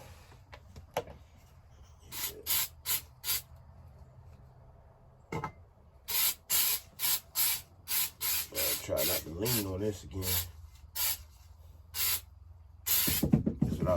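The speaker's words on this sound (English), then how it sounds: "spraying it with that liner" Truck bed liner coating is sprayed onto an engine in short, sharp hissing bursts, a dozen or so in quick irregular succession, close and loud, with someone speaking briefly early on.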